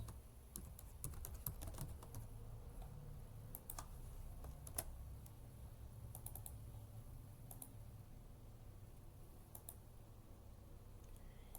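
Quiet, fast clicking of a computer keyboard as someone types, in irregular bursts of keystrokes with short pauses, close and alone.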